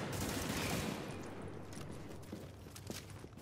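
Rapid bursts of gunfire in a video game crackle in dense, overlapping volleys, loudest at the start and then thinning into scattered distant shots.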